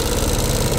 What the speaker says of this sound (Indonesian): Untuk di bagian mesin, suara kasar